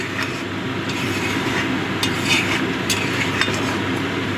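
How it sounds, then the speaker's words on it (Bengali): Ground black pepper is stirred into butter garlic prawns in a hot pan, a loud, even sizzle with small sharp scraping clicks from the spoon repeating throughout, and no talking. "গোলমরিচের গুঁড়োটা দিয়েও মিশিয়ে দিলাম"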